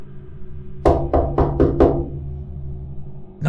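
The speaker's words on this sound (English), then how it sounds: "Then a knock." Five quick, sharp knocks on a side window come close together in a single burst against a quiet, low hum.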